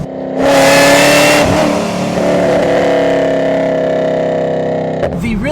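A fifth-generation Chevrolet Camaro ZL1 with an aftermarket intake revs hard, a loud throaty roar that peaks and then holds as a steady high drone for several seconds before dropping off, close up.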